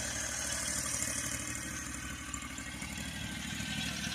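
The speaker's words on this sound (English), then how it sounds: "Got the XZ20R, 23 horsepower, gasoline mini excavator." A new AGT XZ20R gasoline mini excavator with a 23 hp engine idles close by, a steady even chugging that holds without change and with no talk over it.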